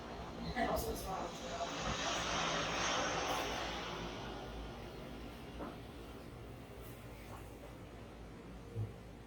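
An airplane passing overhead, a broad rushing engine roar that swells early, then slowly fades into the distance, with a few faint clicks and knocks.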